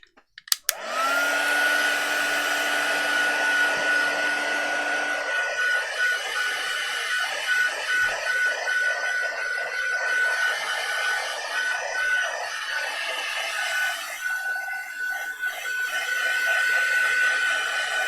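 A hair dryer blows on wet paint in an art journal, switching on with a click and then holding a loud, steady whirring whine close by for the rest of the time, with its pitch shifting slightly as it moves.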